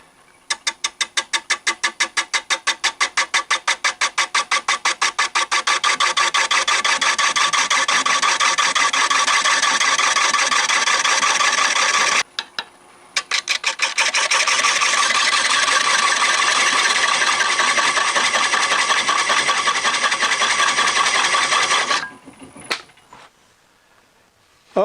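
A wood lathe turns a bowl at about 350 RPM with an off-center jig. A tool scrapes the spinning wood in a steady, loud rasping buzz that stops briefly near the middle and ends before the finish.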